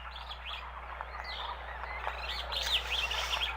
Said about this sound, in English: this one's literally just birds chirping